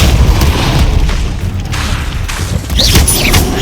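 Booming magical blasts from the Bombarda spell in the Hogwarts Legacy video game, loud dense explosions and crackling bursts filling the clip with little pause, a whooshing sweep near the end.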